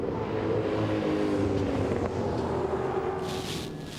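Onboard engine roar of the Kmart Commodore V8 touring car driven by Greg Murphy at the 2000 Bathurst 1000, a loud, continuous drone with wind rush, shifting slightly before easing off at the end.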